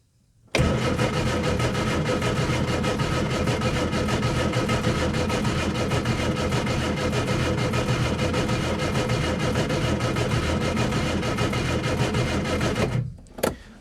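Car engine cranking continuously, trying to start after carburetor work on a project car: a loud, close, rhythmic starter churn lasting over twelve seconds without catching, then cutting off.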